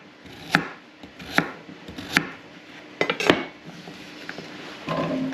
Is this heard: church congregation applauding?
no